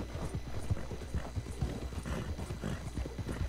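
A horse in Red Dead Redemption 2 gallops with steady, rapid clip-clop hoofbeats and occasional snorting, loud and continuous throughout.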